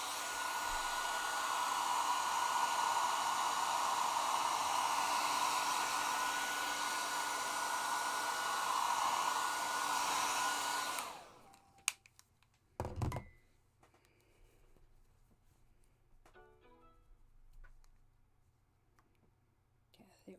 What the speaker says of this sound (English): I'm going to do a quick whip over with the dryer and then I can untape it.